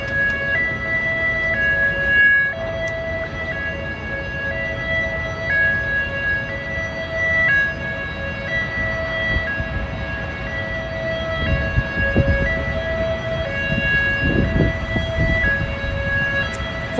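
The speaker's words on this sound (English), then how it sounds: "It's a police car and an ambulance going down." Police car and ambulance sirens pass along a snowy New York street, their wailing tones sounding continuously at moderate distance over low traffic rumble and street noise.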